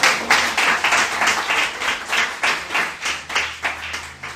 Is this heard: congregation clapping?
yes